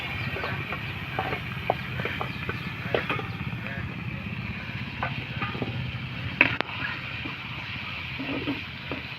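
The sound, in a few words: fresh mola fish frying in hot oil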